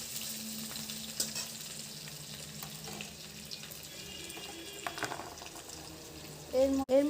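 Garlic sizzles in a hot oil tempering of dried chili, bay leaf and cumin, a soft continuous hiss with small crackles, ending in a couple of louder clatters close by.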